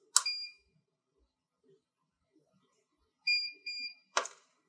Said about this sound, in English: We're going to first hear a beep, then we'll wait for it, and on this time we'll hear 2 beeps